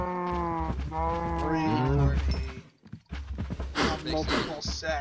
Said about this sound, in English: their mooing's gonna rock the earth, and they start mooing like 100 times fold